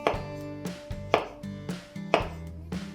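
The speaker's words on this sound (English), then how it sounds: "So what I do is I take one side, slice that off, and then I'm just going to 1/4 inch slices." Kitchen knife cutting white button mushrooms into quarter-inch slices on a cutting board, a series of about five distinct, evenly spaced thuds heard close and alone.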